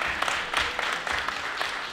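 Audience at a French debate competition claps in a dense, continuous burst of applause, moderately loud and alone without talk.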